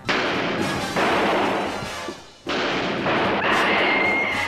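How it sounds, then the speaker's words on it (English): Gunfire in a TV comedy police scene, a dense, continuous barrage of loud shots and bursts that dips briefly before resuming, with no clear talk over it. "They're running through the gunfire!"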